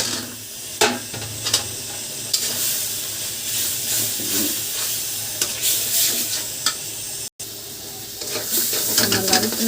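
Grated coconut frying with coriander, chili and turmeric powder hisses loudly and continuously in a pan, broken by repeated scraping stirs and clicks of a spatula, with a brief cut near the end.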